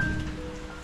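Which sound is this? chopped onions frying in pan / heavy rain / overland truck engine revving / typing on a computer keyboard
heavy rain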